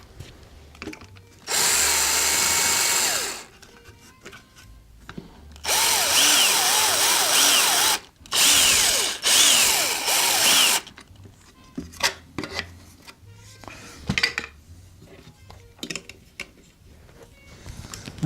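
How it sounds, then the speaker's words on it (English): A power drill whines in three loud bursts, drilling out metal rivets on a bass speaker with rising and falling pitch, separated by quieter clicks and handling noises. "We're going to go ahead and drill out all of these since we're drilling."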